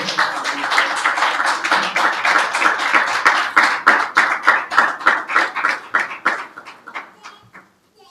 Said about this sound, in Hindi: यीशु मसीह के लिए जोरदार तालियां बजाएं।